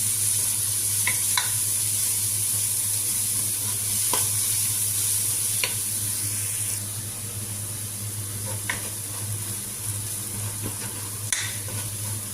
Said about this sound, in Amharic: ነጭ ሽንኩርት ደግሞ ቢጫ እስከሚሆን ድረስ መጠበስ አለበት።